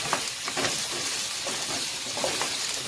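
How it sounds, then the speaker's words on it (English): Pumpkin and carrot pieces sauté in hot oil in a pan for Jamaican-style steamed fish, giving a steady, close, continuous sizzle with bright hissing crackles and no talking. "So the pumpkin and the carrot is sauteing"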